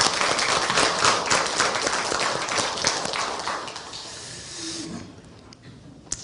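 A congregation at a Hanyang University chapel service gives the choir a warm round of applause, loud sustained clapping filling the room before tapering off and fading into quiet near the end.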